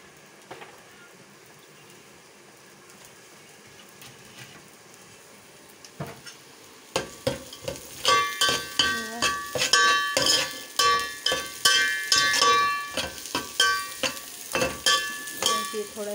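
After a quiet start, the white part of green onions hits hot oil for Chinese rice, bursting into loud crackling sizzle with rapid stirring scrapes and clinks against the pan.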